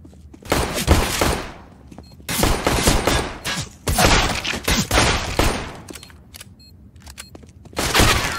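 Bursts of gunfire in the Counter-Strike video game come in repeated volleys of sharp shots, loud and dense, separated by brief lulls.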